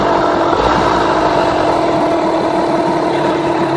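A Yamaha 9.9/15hp outboard motor idles close by during tuning, a steady buzzing hum with a fast, even pulse and no talk over it.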